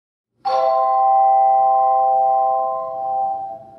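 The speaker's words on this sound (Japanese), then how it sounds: "まずはトーンチャイムという楽器。 こんな音が鳴ります。" A single tone chime note rings out clearly and sustains with a smooth, pure tone, slowly fading over a few seconds in quiet surroundings.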